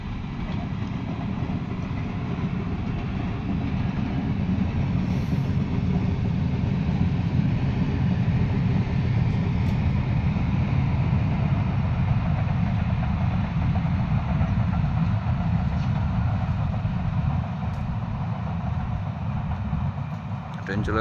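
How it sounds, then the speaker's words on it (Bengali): A train rumbles past an open field in a steady, loud, continuous roar that holds for the whole stretch, with voices talking over it. "চল ট্রেন আসছে"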